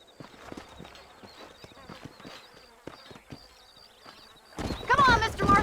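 Horse hooves clip-clopping in the Red Dead Redemption video game, a quick irregular series of soft hoof knocks with insect-like buzzing, and someone speaking loudly at the end.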